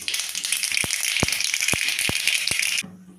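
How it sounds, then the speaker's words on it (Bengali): Mustard seeds and whole cumin seeds sizzle loudly in hot oil, a bright steady hiss broken by sharp scattered pops, then the sizzle cuts away abruptly near the end. "তেল একটু গরম করে নিয়েছি, দিলাম সর্ষে আর গোটা জিরে"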